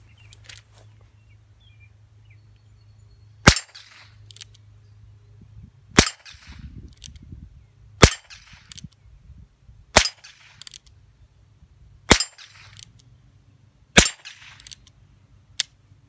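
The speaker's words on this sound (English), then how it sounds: "This thing almost sounds like a little cap gun going off of those in there." Seven sharp, light cracks of .22 CB rounds fired from a Heritage Rough Rider revolver, spaced a couple of seconds apart outdoors, each a small popping report like a cap gun, with quiet handling noise between shots.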